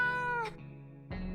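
A cat meows in the survival video game 60 Seconds: a clear, drawn-out call, a short pause, then a second meow, loud and close with no talk.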